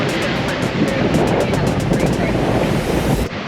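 Pacific ocean swells breaking as surf on the exposed side of an atoll, a steady broadband roar of waves mixed with wind buffeting the microphone, continuous and fairly loud throughout.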